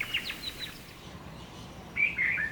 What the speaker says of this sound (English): Dressed like a painting, the rainbow lorikeet. These colorful parrots often pair for life, fiercely loyal and loud in equal measure.